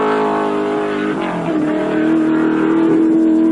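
Larry Perkins' number 11 Holden Commodore touring race car on a qualifying lap at Bathurst, a loud close engine howl with rising and falling revs as it shifts through the corners, alone without talk.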